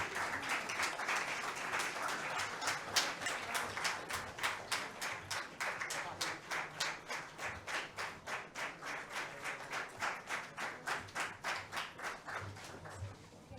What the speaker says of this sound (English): Ladies and gentlemen, let's continue applauding for all the three winners.